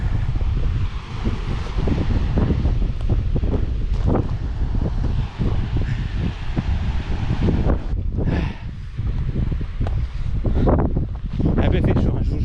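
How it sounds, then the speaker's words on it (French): Strong, steady wind buffets the microphone along the Guadeloupe coastal path between Porte d'Enfer and Pointe du Souffleur, roaring continuously for the whole stretch with rustling gusts and occasional voices underneath. "heureusement qu'il y a du vent"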